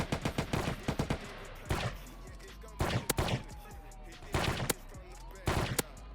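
Gunfire from a sniper in a GTA game, with sharp cracking shots in rapid bursts and in single shots, some close and some further off, spread over several seconds.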